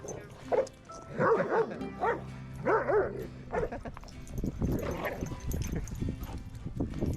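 Dogs of different sizes play at a dog park, with a string of close, loud barks and yips in quick bursts early on, then scuffling and lower rumbling play sounds continuing.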